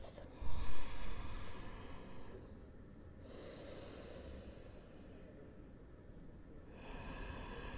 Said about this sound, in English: Take slow, deep breaths.